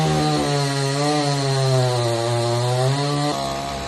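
Close, loud chainsaw cutting through a coconut tree trunk, the engine droning at high revs with its pitch sagging slightly under load before lifting again near the end.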